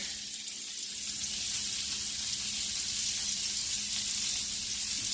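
Onions sizzle in garlicky bacon fat in a pan, a steady, loud hiss that builds slightly after the first second and continues evenly throughout.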